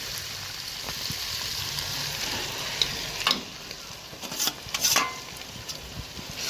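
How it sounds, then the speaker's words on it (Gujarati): Tomatoes added to a hot pan sizzle steadily up close, with sharp crackling bursts and stirring scrapes growing louder toward the end. "તો મિત્રો આપણે હવે ટમેટા નાખી દેવાના છે."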